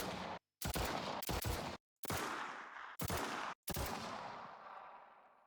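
Bursts of submachine gun fire from the SMG11 in an Unreal Engine 5 COD Zombies game, four sharp rapid volleys cut by short silences, the last one trailing off into an echoing tail.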